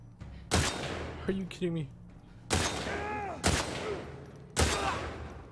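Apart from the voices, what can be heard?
gunfire from the video game The Last of Us Part II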